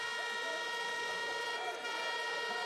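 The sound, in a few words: air horns blown by fans at a high school football game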